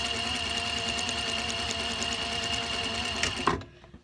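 A sewing machine stitches a line across fabric for curtain weights in a fast, even, close mechanical whir, then stops abruptly near the end.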